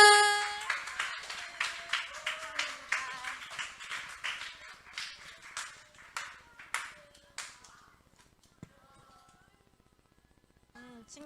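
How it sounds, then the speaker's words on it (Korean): Children's church audience clapping at a junior Sunday service, a brief and fairly light round of applause that fades out over several seconds, followed by near silence with a few faint taps. "큰 박수,"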